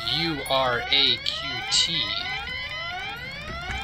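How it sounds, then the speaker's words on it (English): An alarm in the point-and-click game Deponia blares with rising and falling siren-like sweeps that repeat steadily and loudly, while someone speaks over the start. "That's the alarm. That's the combo."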